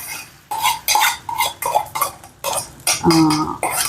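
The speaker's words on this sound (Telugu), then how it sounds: "ఆమ్లెట్ అయితే వేసేస్తున్నాను" Omelette being made in a pan, with a run of sharp rhythmic clinks and taps of utensil against metal and a brief scraping stir, close by and unvoiced.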